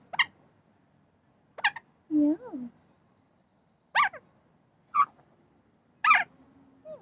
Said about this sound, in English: Some seagulls.